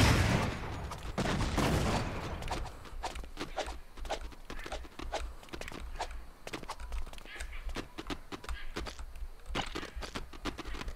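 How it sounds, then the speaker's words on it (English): Rapid gunfire from the Lego Indiana Jones 2 video game: a dense, continuous stream of crisp clicky shots and impacts, loudest at the start and then steady, with no speech. "Stop shooting them."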